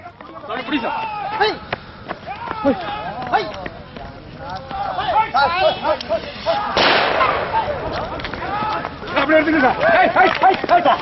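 Firecrackers burst to drive wild elephants out of a village in Krishnagiri. Scattered sharp bangs sound under continuous talking, with one louder, denser burst partway through.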